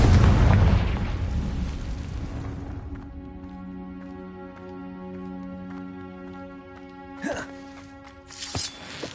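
A Confringo fire spell from a Harry Potter video game bursts in a loud, booming explosion, then a ringing tonal decay fades over several seconds before brief magical whooshes return.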